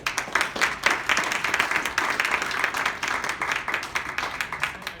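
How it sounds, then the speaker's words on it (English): An audience at an economic summit panel gives a sustained round of applause, dense clapping filling the whole stretch at steady, fairly loud level with no speech over it. "let's give him a round of applause"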